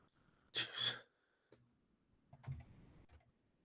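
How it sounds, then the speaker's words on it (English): Quick keystrokes on a computer keyboard, a short close burst of clacking followed by a few scattered softer taps and a faint throat sound, in a quiet room. "Typing like I have sausages for fingers here."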